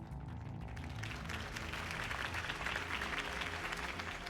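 A crowd applauds after a campaign speech in the video game Batman: The Telltale Series, a steady wash of clapping at moderate distance.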